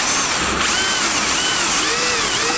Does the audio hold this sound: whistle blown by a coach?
no